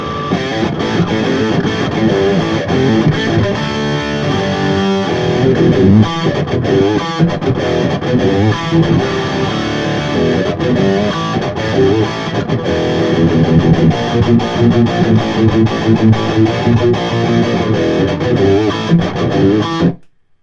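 A chunky, grinding distorted electric guitar with a noise gate on, at 5150-style high gain, plays heavy riffs continuously for about twenty seconds, loud and close, then cuts off abruptly to silence.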